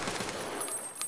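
A rapid burst of distant gunfire in the video game Escape from Tarkov, crackling in a dense, noisy stream, with sharper reports near the end.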